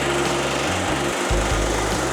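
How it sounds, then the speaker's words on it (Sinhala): A rice polishing mill machine at a red rice mill runs with a loud, steady mechanical whir and drone, a few brief dips in the low hum as it comes up to speed, no talk. "ඔන්න මැෂින් එක ඔන් කරගත්තා."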